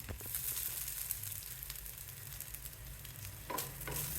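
Onions, garlic and grated coconut sizzle steadily in a hot pan while being sautéed for mint chutney. The frying is soft and continuous, with occasional brighter stirring scrapes toward the end.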